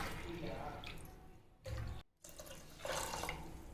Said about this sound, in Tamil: இன்னொரு டம்ளர் தண்ணி விட்டுக்கலாம்.